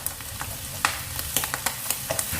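Fennel seeds sizzle in hot oil in a pan while a spoon stirs them with light scraping clicks, an early step for a Kerala clam meat roast.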